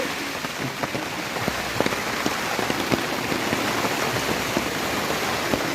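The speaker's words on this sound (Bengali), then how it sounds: "বাইরে বৃষ্টি হচ্ছে" Steady rain falls outside, a dense even hiss of drops striking surfaces with scattered louder close taps throughout.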